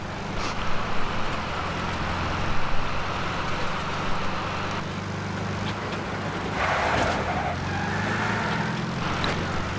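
A vehicle drives out of a military base in Metal Gear Solid V: Ground Zeroes, its steady low engine drone running throughout with a slight swell midway and no talk.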